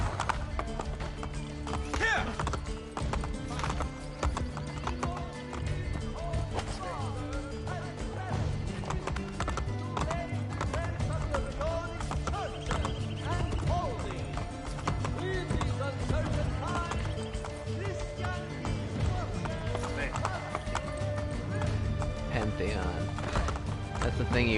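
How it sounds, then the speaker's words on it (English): A horse in Assassin's Creed Brotherhood gallops with steady clip-clopping hooves and whinnies, running continuously under someone talking over the game. "Press triangle at any time to call a horse."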